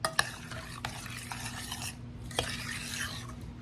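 Tomato preserves cooking in a pot and being stirred with a utensil: soft scraping and stirring strokes with a few sharp clinks against the pot over a faint simmer, close and fairly quiet, no talk.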